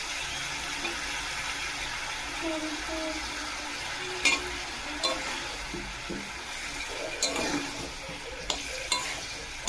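Jaggery being stirred with a little water in a pan, a soft continuous bubbling sizzle broken by occasional sharp scrapes and knocks of the spoon, heard close and alone.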